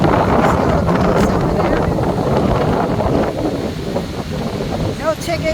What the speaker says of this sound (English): It's very, very, very windy today, so hopefully you can hear me.